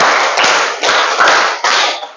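Schoolchildren in a classroom clap in unison in a rhythmic five-beat pattern. The thick, loud wash of many hands swells in repeated bursts, close and continuous, with no voices over it.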